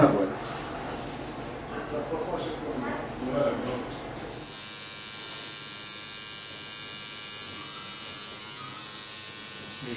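A tattoo machine buzzes steadily and loudly at close range once switched on, a constant electric whine that holds for about six seconds after a stretch of quieter handling noises.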